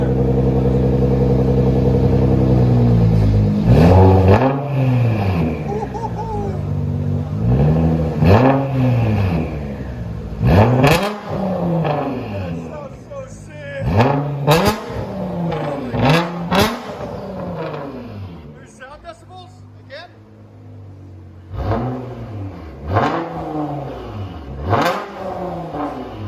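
A Nissan GT-R with a 3.8L twin-turbo engine and straight-pipe exhaust revs repeatedly, each throttle blip rising into a loud raspy howl and falling back, with roughly a dozen close, aggressive sweeps and no talk.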